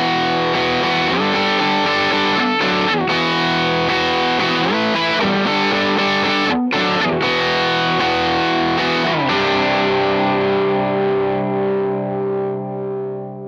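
A distorted instrument played through a Pinstripe Pedals DISO Plus DI box, dense sustained chords with a few short gaps, loud and steady, then a long ringing fade at the end.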